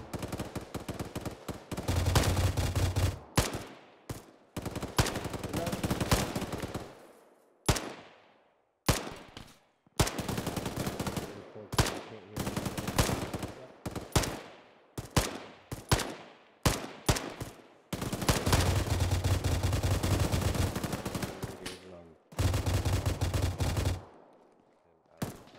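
Rifle and machine-gun fire in Arma 3: long sustained bursts of loud automatic fire, broken by short pauses and single shots, dense and close throughout the stretch.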